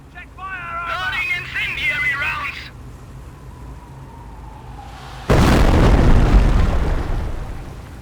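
Incendiary artillery barrage explosions in the Company of Heroes video game: a loud, sustained rumbling burst erupts after a German-accented voice line and fades slowly, with broadband roar filling the last few seconds.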